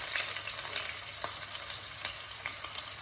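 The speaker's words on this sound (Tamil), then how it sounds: "இப்போ இதோட 3-4 பல்லு உள்ளி சேர்க்கிறேன். உள்ளி பொரிஞ்சு வரட்டும்." Garlic cloves frying in oil in a pan for a drumstick stir fry, a steady close sizzle with occasional crackles and light clicks, no talking.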